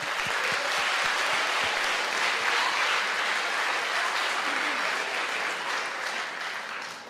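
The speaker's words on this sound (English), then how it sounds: "get one more round of applause for the terrific readers" Applause for readers at a poetry recitation event: a large audience clapping in a thick, steady wash that holds for about seven seconds before easing slightly.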